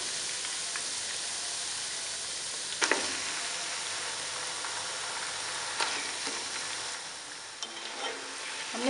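Chicken pieces fry in a pan for chicken korma, making a steady, moderate sizzle with a few sharp stirring clicks and scrapes of a spoon against the pan, close by and without speech.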